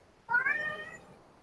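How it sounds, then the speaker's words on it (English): A single drawn-out cat meow, fairly close and clear, rising then fading over about a second, with no talk around it. "said meow, meow, meow, and we heard the cat"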